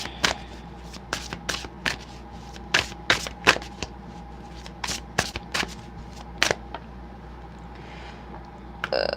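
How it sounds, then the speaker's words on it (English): A large deck of playing cards being shuffled by hand, with repeated sharp riffling bursts and soft slapping at an irregular rhythm, close and fairly quiet. "So I'm going to figure out how to shuffle all of these cards."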